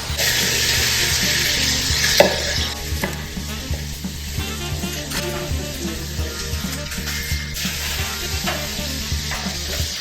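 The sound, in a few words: food sizzling in a pan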